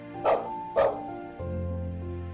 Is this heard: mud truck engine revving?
no